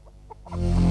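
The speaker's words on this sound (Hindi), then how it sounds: "उधर मुर्गी को दाना खिलाया जा रहा है" A few soft clucks from a chicken sound close by, followed by a rising swell of louder background noise.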